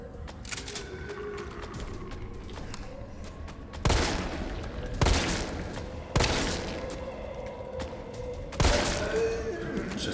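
Repeated loud gunshots and bursts of fire in Resident Evil 3 Remake, several sharp blasts spaced a second or two apart over constant background noise.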